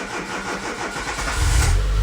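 A Citroen ZX Avantage 1.4i TU3 starts for the first time in months, cranking briefly before catching and settling into a loud, steady idle up close.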